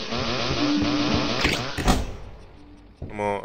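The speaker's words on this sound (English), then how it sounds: "What is chasing me? A lawnmower?" A buzzing engine drone chasing the player through a supermarket in a horror video game, loud and continuous for most of the clip before briefly fading, with a few knocks and a short burst of sound near the end.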